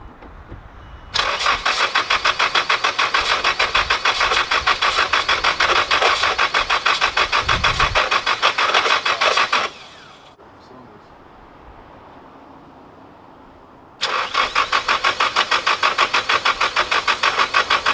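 A go-kart engine cranks and catches into a loud buzzing idle, cuts out into a quieter lull for several seconds, then restarts with the same steady rapid chatter.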